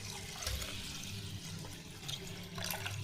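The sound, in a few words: pouring water over washed rice and urad dal to soak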